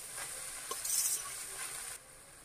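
Noodles and vegetables stir-frying in a pan over a high flame for Indian street-style chicken chowmein, a steady hiss and sizzle with a brief louder surge of stirring, close and alone.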